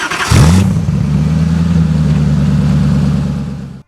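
A Koenigsegg CCX supercar engine gives a sharp rev blip, then settles into a steady, loud, close idle rumble that holds until it cuts off abruptly.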